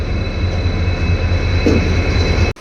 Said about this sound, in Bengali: খুবই সুন্দর একটা ট্রেন আইলো